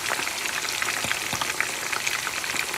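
A whole chicken roast, Lahori chargha, frying in a pan, giving a dense, continuous close-up sizzle and crackle of hot oil with rapid tiny pops and no voices.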